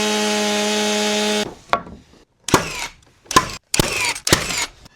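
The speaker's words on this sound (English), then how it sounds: "we're gonna take the chainsaw and rip it down" A chainsaw rips lengthwise down a cedar post: first a loud steady buzzing whine, then several harsh, loud bursts of cutting, each separated by brief gaps.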